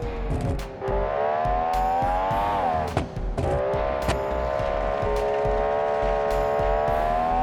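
Race car in the BeamNG driving game accelerates hard out of a corner, engine revving up through rising pitch with brief gear-shift dips and tire noise, loud and close throughout.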